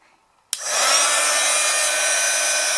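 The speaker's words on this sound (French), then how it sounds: "j'espère qu'avec le heat gun vous allez voir ce que ça donne" A heat gun switches on abruptly after a moment of near silence and blows a loud, steady hiss of hot air while drying snow-effect embossing paste on a winter card.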